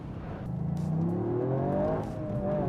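Induction roar of a Toyota GR Yaris hot hatch under acceleration, a rising whirring engine note with air-intake suction, heard from inside the car and climbing steadily in pitch.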